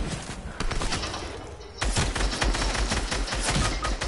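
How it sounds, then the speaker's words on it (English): Dense, rapid gunfire in the video game Fortnite, loud continuous bursts with a brief lull partway through before the shooting resumes, with no speech. "I put a lot of shots in on them."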